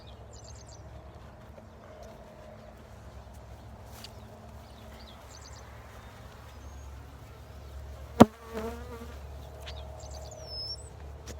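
A steady, dense buzz of a honey bee swarm being shaken into a box fills the clip, with a sharp knock or tap partway through and small chirps above.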